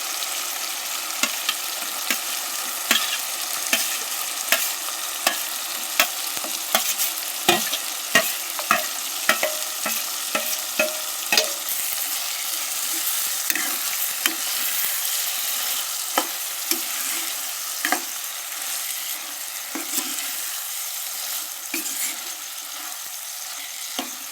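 Boiled eggs tossed into a hot pan of oil for egg chingri, with a steady sizzle and repeated sharp scrapes and clinks of a spoon stirring them, close and without talk.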